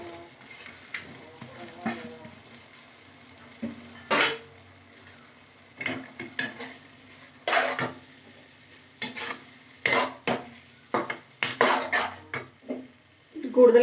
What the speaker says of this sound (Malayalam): ഇനി നമുക്ക് ഈ മാങ്ങ കഷ്ണങ്ങൾ ഇതിൽ ആഡ് ചെയ്ത് കൊടുക്കാം.